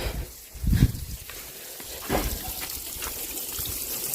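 Water trickles and spreads over the ground of a poultry yard in hot weather, with soft gurgling spurts and a steady wet flow, close by. Faint background noise runs underneath.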